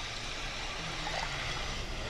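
Water poured steadily into a pot, two cups for boiling polenta in a home kitchen, a continuous soft rushing trickle with no talk over it.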